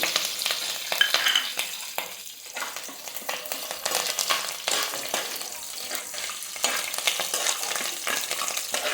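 Curry leaves and dried red chillies, with green chillies, fry in hot oil for a banana stem curry, a steady close sizzle with occasional stirring scrapes and crackles, heard alone without talk.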